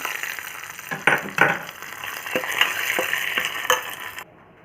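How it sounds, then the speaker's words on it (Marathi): Hot oil tempering with green chilies and curry leaves sizzles and crackles steadily, with a few sharper bursts as it is poured over an ash gourd salad, then the hiss drops away near the end. "ही फोडणी आता या कोशिंबीरमध्ये घालायची"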